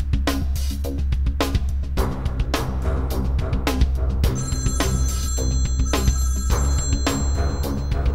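A telephone rings repeatedly in a tense indoor drama scene, with a run of bright, evenly spaced electronic ring bursts that keep going over a low background rumble, loud and close with nobody talking.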